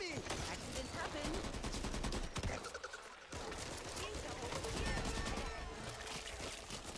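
Rapid video game gunfire with bursts and fusillades of shots, loud and continuous with a short break, alongside other game sounds.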